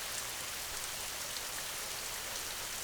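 Continuous rain falling for a sleep soundscape, an even, dense patter of drops spread across a steady bright hiss, close and uniform with no voices.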